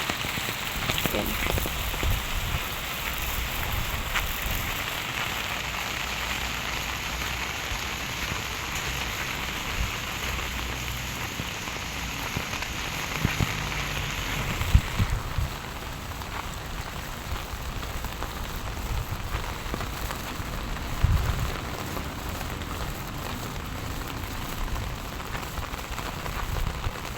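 Steady rain pours down throughout, a constant hiss of drops on surfaces, with a few louder knocks along the way.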